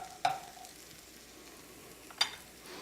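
Onions sauteing in a pan as fresh thyme is stirred in for a homemade chicken noodle soup, a quiet continuous sizzle broken by two brief scrapes of a utensil against the pan.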